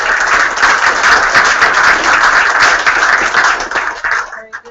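An audience at the close of a seminar panel on the Peace Corps and agricultural development bursts into loud, sustained clapping with some crowd murmur, the patter fading out near the end.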